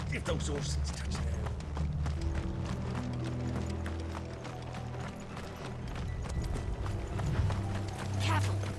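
Horse hooves clip-clopping in the video game Final Fantasy XVI, a rhythmic clatter under game music and rumbling ambience, with voices speaking over parts of it.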